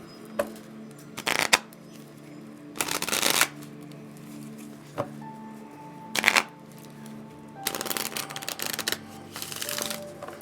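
A deck of tarot cards is shuffled by hand in several separate bursts of riffling and sliding, with quiet handling and picking of cards between them, close and clear with no talking.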